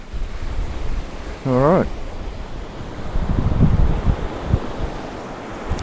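Wind and surf roll in at Snelling Beach on Kangaroo Island, a steady ocean wash with gusts hitting the microphone and a louder wave surge near the end; someone speaks briefly over it.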